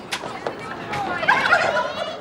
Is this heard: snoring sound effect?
no